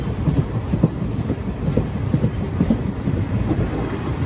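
Visakhapatnam Machilipatnam Express rolling along, heard from inside as a loud, steady low rumble with faint rhythmic clicking of wheels over the track.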